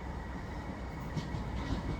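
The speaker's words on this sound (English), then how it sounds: "my next tram's arrived" Manchester Metrolink tram arriving at a stop in rainy weather, a faint low rumble with soft rail hiss and no talk.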